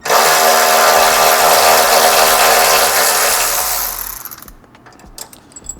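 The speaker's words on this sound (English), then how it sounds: "we're going to take our socket and remove the bolt holding the emergency brake line" A power tool on a socket spinning out the emergency brake line bolt on a Toyota 4Runner, a loud continuous whir for about four seconds that tapers off, followed by faint clicks and handling noises.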